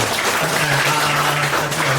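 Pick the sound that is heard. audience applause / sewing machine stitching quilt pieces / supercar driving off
audience applause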